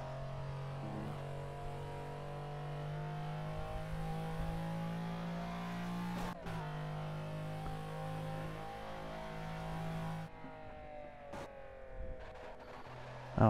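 McLaren GTR race car engine in Project Cars, driven on the Nürburgring: a steady, loud mid-pitched drone that holds its tone and then changes gear near the end, with no talk over it.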